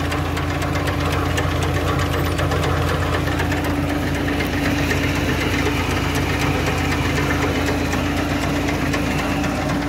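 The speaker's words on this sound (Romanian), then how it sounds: "Tractorul este la relantii." A tractor engine idles under 1000 rpm while driving a seed drill converted from six rows to four, giving a steady, close, loud mechanical knocking and rattling throb that holds without a break and has no talk over it.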